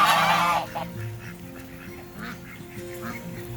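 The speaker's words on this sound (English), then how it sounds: "the geese were sounding the alarm because they wanted him to cut it short" Farm geese honk an alarm, a loud close burst of harsh cries at first, then fainter scattered honks and quacks from several birds continue in the background.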